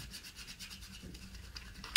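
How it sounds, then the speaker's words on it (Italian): Tarot cards are shuffled by hand, giving soft, faint rubbing and riffling sounds in a loose rhythm, ending with a brief sharper snap. "mescoliamo le carte, mescoliamo le carte"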